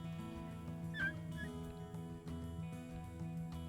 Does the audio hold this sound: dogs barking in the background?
yes